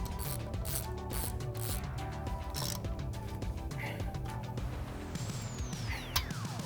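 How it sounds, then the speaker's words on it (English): Ratchet clicks from tightening the rear bolts on a Corbeau Trailcat reclining seat in a Jeep JK Wrangler, steady close mechanical ratcheting throughout with a rising squeak near the end. "now I can properly tighten down these rear 2 because they're in a fixed location"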